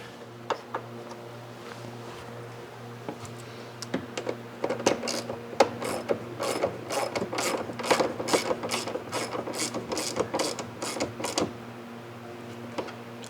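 A hand ratchet tightens bolts back up, with a long run of rapid close clicking pawl strokes in irregular bursts over a low steady hum.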